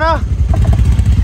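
A motorcycle engine rumbles loudly and steadily up close on a mountain trek in Ladakh, with a short voice at the very start.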